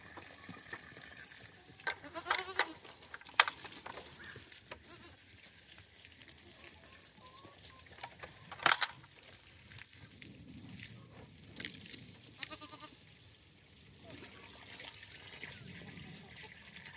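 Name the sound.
baby goats bleating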